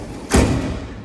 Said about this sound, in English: I'm going to put the door up,